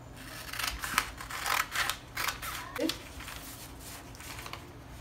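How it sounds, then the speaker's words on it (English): Scissors cut a paper bustier pattern, a series of soft, close snips and paper rustles in an uneven rhythm against a quiet room hum. "So now I'm cutting this out."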